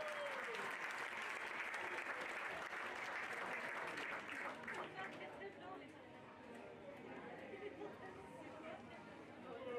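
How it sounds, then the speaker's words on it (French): Loud, sustained clapping from a large crowd at a pony show-jumping team medal ceremony, dense and steady, easing slightly in the second half with a murmur of voices beneath. "On les applaudit bien fort."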